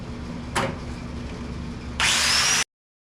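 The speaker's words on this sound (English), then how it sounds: "Try a wire wheel first." A wire wheel spun by a drill scours a metal tool chest, with a short gritty burst early on and a louder, harsh whirring grind late that cuts off abruptly.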